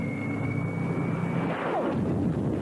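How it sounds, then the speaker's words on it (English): A steady droning airplane engine hums with a sustained whine, then shifts and rumbles as if the aircraft passes close by. "All right, cool plane."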